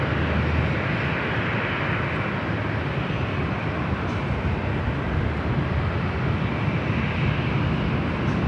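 A Delta airliner taking off from runway 24 Left at LAX, a broad continuous jet roar holding steady and loud at a distance, with no voices.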